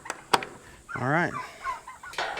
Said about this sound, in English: Oh, the turkeys aren't happy.